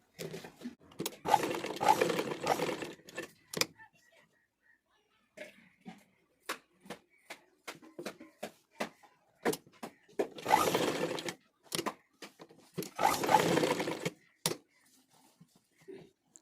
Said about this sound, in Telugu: బకరాన్ని మెయిన్ క్లాత్ పై నీట్గా కుట్టు అనేది వేసుకోవాలి.